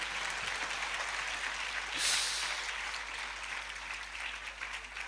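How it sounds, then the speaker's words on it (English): Steady crowd applause from an audience at a spiritual talk fills the space, a dense wash of many hands clapping at moderate loudness with no voices over it. "Now clap."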